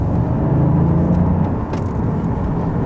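A Toyota GR Yaris engine rumbles steadily close by, a low continuous growl holding at a constant level for a few seconds with a faint droning hum running through it.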